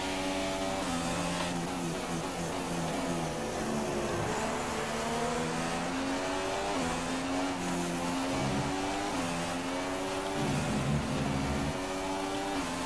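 A Formula 1 car engine in the F1 2016 video game, racing in the German round while slipstreaming close behind another car. It gives a loud, continuous high-pitched whine that rises and falls steadily through gear changes.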